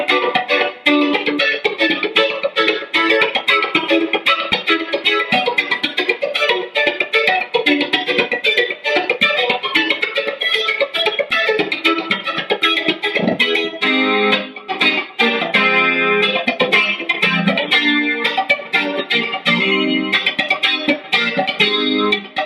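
Electric guitar through a Strymon Mobius modulation pedal set for a funky sound: rapid choppy strummed chords with a swirling modulated shimmer, continuous and loud, no talking.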